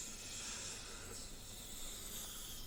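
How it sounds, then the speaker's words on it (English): A steady breathy hiss of someone sucking in air, faint and continuous throughout with no talking. "The noise you're hearing is someone just sucking in air"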